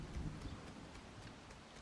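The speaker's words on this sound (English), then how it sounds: "I really do want the rain gone." Soft, steady rainfall in a cozy building game, a faint continuous hiss with occasional drips over a quiet background.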